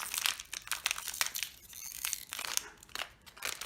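Packaging tape on a box is pulled open by hand without cutting, giving a quiet run of crinkling, crackling and tearing rustles in irregular bursts close by, with no voices.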